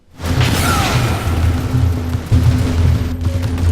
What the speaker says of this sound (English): This energy can be released in a devastating blast which literally tears enemies apart.